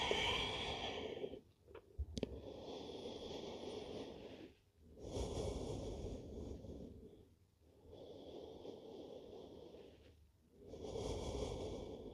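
Slow exhales during a power yoga session, four long breathy rushes of air close to the listener, separated by short quiet dips, with a faint tap early on and no talk.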